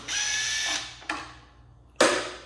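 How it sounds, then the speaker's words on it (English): A DeWalt impact driver runs in bursts while a subwoofer is taken apart: a long whirring run, then a brief zip and a final sharp start, loud and close with no talk. "DeWalt impact driver."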